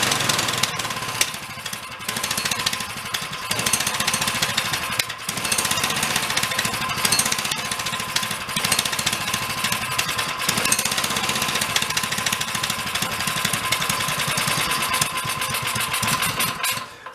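A dune buggy's small engine runs steadily with a loud, rough, rattling drone, choked and with its idle being adjusted, holding a constant buzzing tone throughout.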